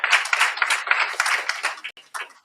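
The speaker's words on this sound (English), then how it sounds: "we give you a round of applause for doing that as you come forward" Audience clapping at a municipal broadband and digital skills event, a short burst of close, brisk hand claps that thins out and fades after about two seconds.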